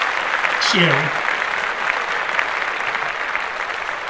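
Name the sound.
audience applause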